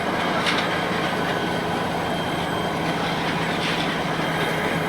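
A train at Komlapur railway station in Bangladesh, a steady loud rumble of rolling wagons with faint wheel squeals and clatter, sustained throughout.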